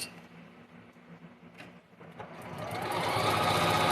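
A Janome Memory Craft 6700 sewing machine stitches quilt pieces, starting with a soft background hum and then rising into a loud, steady, close-up whirring run.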